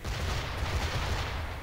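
Ship cannons fire during a naval battle in the video game Assassin's Creed IV, producing a dense, rumbling barrage of heavy booms that rolls on continuously through the brief moment without speech.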